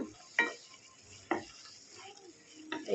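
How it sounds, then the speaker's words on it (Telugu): Onion and egg curry being stirred in a pot, three distinct spoon knocks and scrapes against the metal spaced about a second apart, with quiet sizzling between them. "మూత తీసి ఇదంతా ఇట్లా కలుపుతున్నాం"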